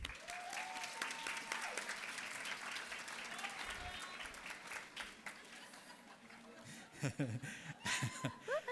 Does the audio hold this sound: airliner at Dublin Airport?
no